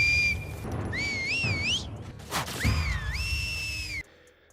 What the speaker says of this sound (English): One of the most unique things about them is their use of a whistling language to communicate.